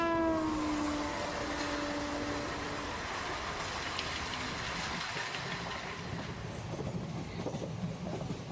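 A train rolls past loud and close with a horn blast at the start, then a steady rumble and clickety-clack of wheels over rails.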